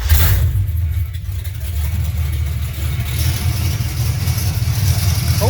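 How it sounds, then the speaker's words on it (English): A 1968 Chevy C-10 pickup with a 327 V8 cranks and then runs, its steady low rumble loud and close and unbroken by any voice for the whole stretch. "have to get it started here. It takes a little bit to get going."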